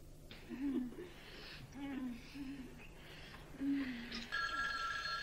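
A telephone in a scene from an Italian action film starts ringing late on, after faint breathy voices and murmurs; the ring is fairly quiet under the room sound.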